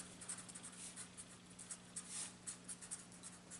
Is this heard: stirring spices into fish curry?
no